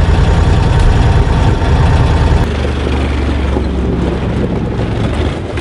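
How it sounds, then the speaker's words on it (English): Engine of a custom-built amphibious vehicle on an Argo platform, a loud, heavy low rumble idling steadily close by, with wind buffeting the microphone. "his really crazy amphibious vehicle, which is completely custom built on the Argo platform right here"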